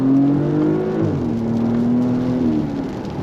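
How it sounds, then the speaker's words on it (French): A Porsche Panamera Sport Turismo with sport exhaust and all-wheel drive gives a loud, close, throaty engine note that rises, dips and settles into a steady drone, with no one talking. "Vous voyez avec l'échappement sport on a quand même une très belle sonorité."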